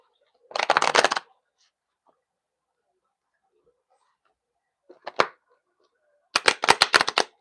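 Oracle cards that are sticky are shuffled in short, close riffling bursts: one near the start, a brief flick midway and a longer rapid run of flapping near the end, with silence between.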